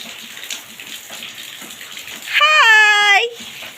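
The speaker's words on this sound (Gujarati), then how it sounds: "અત્યારે તો વરસાદ સતત ચાલુ જ છે." Continuous rain falls as a steady, even wash of noise throughout, joined briefly near the end by a loud, high tonal cry that rises over the rain for under a second.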